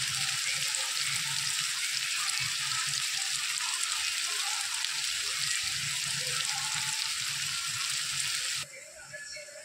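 Onions sizzle in a hot pan for Bengali chicken kosha, a steady, close crackling hiss that carries on without a break and drops off sharply near the end.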